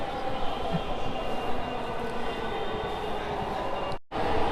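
A steady, continuous rumble of a Dhaka metro train in motion between Karwan Bazar and Motijheel, loud and broad, with a brief dropout near the end before the noise resumes.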